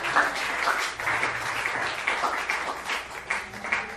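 A church congregation applauds together, a continuous wash of clapping at moderate distance with faint voices mixed in.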